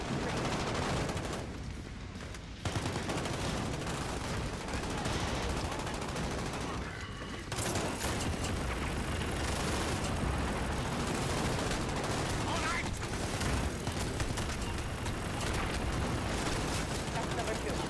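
Heavy gunfire from the video game Modern Warfare, a dense unbroken roar of rapid automatic fire and explosions with brief dips, loud and continuous throughout.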